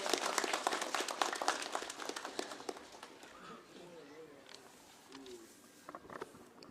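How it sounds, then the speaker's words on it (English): Applause from an election campaign crowd welcoming an NPF candidate on stage in Ukhrul, dense clapping loudest at the start and thinning to scattered claps and murmur toward the end, with faint voices underneath. "shall we all welcome him with the biggest round of applause?"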